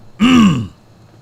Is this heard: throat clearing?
yes